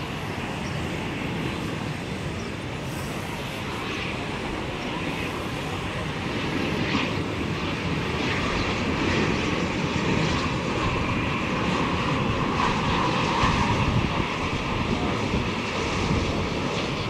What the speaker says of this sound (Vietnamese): Còn đây là một chiếc Gulfstream G700 thực hiện chặng bay từ Phú Quốc về đến sân bay Tân Sơn Nhất